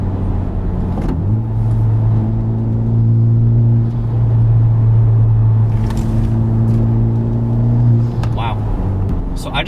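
A 2021 Honda Civic Type R accelerates hard through a 25 mph zone, its engine rumbling loud and close with a steady droning pitch that rises and holds, while a voice speaks over it.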